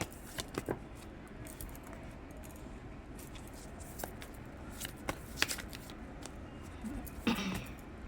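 Tarot cards being shuffled and drawn by hand, soft papery riffles and flicks with scattered sharper snaps, close and fairly quiet with no talking.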